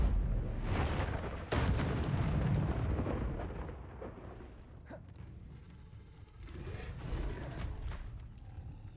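An Incendio fire spell cast in Hogwarts Legacy on PC bursts out as a loud, roaring whoosh with a sharp crack near the start. It keeps rumbling and then fades slowly into quieter crackling and ambient noise.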